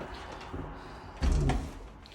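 The automatic-locking entrance door of a UK apartment building closes with a single solid thud and latch knock midway, above a low background rumble.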